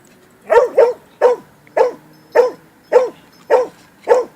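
A dog barks in a quick, even series of about eight sharp, close, loud yips and barks with a whimpering edge, spaced roughly half a second apart, with no talking over them.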